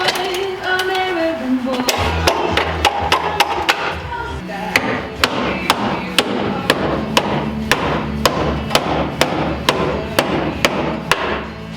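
Hammer blows on a metal bracket being bent on a lifted Mazda Miata, a steady run of sharp, loud metallic strikes at a brisk regular rhythm, close up, with a brief stretch of talk at the start.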